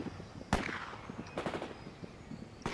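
Gunfire in the strategy game World in Conflict, a few sharp distant shots and short bursts scattered over a low rumbling battlefield background, fairly faint.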